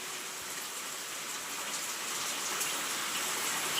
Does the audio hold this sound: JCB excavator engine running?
no